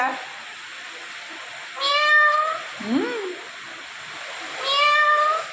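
A cat meows twice, a few seconds apart, with a shorter squeaky cry between, over a steady rushing background hiss.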